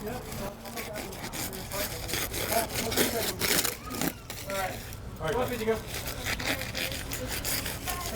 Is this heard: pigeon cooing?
no